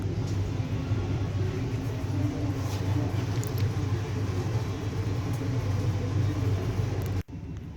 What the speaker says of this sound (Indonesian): tepat pukul 19:20 KA Majapahit diberangkatkan dari stasiun Pasar Senen menuju stasiun Malang